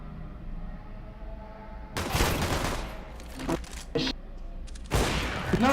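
Gunfire in the game CS:GO: loud bursts of rapid shots start around two seconds in, with scattered single cracks, then another burst near the end, over a constant background hum.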